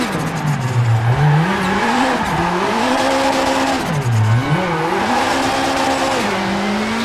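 A rally car in the WRC 6 racing game spins through a donut, its engine revving and swooping up and down while the tires squeal continuously, loud and close throughout.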